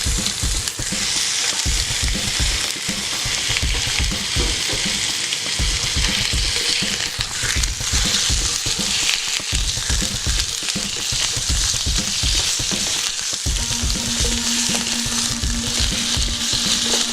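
Chicken pieces frying in hot oil for a Chicken do Pyaza, a continuous crackling sizzle with rhythmic stirring or tossing sounds, close and fairly loud, no talking.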